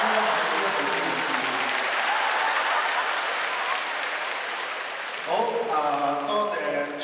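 Loud, sustained audience applause fills a Cantopop concert hall, steady for about five seconds before a voice and music rise over the clapping near the end.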